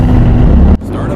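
A car's engine starting up in the Roblox racing game Grand Horizons, a loud, close, steady low engine drone that cuts down abruptly partway through, then settles at a slightly lower level.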